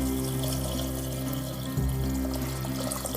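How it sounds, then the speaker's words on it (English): Water pours steadily into a pot of hot and sour soup base, a continuous splashing rush with one brief bump partway through. "Now add water to this and let it come to boil."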